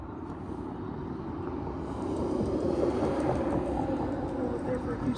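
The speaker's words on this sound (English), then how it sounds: "Let's show you it's a cold start first here." A 1974 Norton Commando 850 Hi-Rider motorcycle engine idles after a cold start on a winter day in Michigan, a steady close rumble that swells slightly louder partway through.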